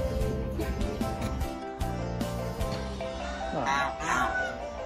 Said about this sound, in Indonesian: Ada bebek di sana.